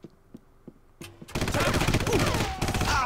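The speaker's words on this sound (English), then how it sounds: "machine gun" Sustained automatic gunfire from the video game Red Faction erupts after a few quiet taps, rattling loudly and densely for about two seconds.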